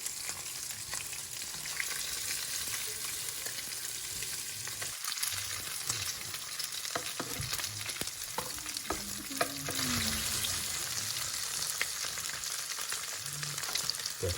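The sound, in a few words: pork belly frying in a pan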